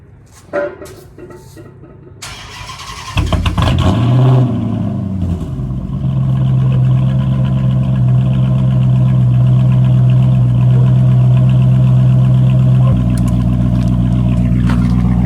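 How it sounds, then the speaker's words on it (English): A car engine cranks and fires up, revs briefly high, then settles into a loud, steady idle that continues close by. "let me go ahead and give y'all a little cold start"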